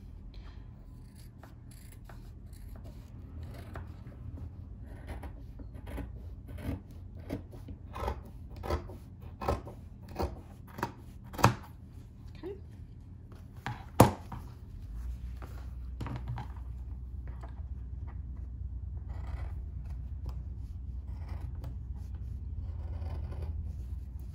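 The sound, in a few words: scissors cutting through three layers of fabric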